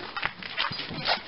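A puppy whimpers and whines in short, soft bursts close by, with faint thin cries rising and falling over about a second.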